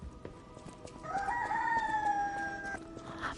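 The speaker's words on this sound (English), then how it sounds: "the rooster that is outside your house is really cuckooing" A rooster outside a house gives a single drawn-out crow, fairly faint and distant against a quiet background, with no talk over it.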